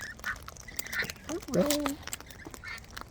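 Wild Australian birds squawk and call in short bursts close by while being hand fed, with a person speaking softly over them.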